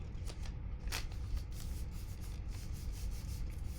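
Hands rubbing a sheet of paper down onto a Gelli printing plate, a steady dry brushing and swishing of palms over paper, close and continuous, with a few sharper strokes.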